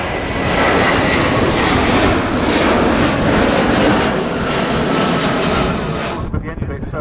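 A Boeing 757-200 jet roars loudly and steadily past at an air show display, a broad continuous engine rush that holds for about six seconds before cutting away abruptly.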